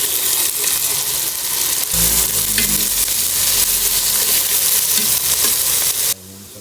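Loud, steady sizzling and stirring as garlic and aromatics are sautéed and miso is added in a pan for sinigang na bangus, with clanks of a utensil over constant frying hiss that cuts off abruptly near the end.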